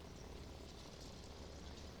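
Helicopters in the strategy game Line War give a faint, steady rotor drone with an unbroken whirring wash at low volume and no pauses.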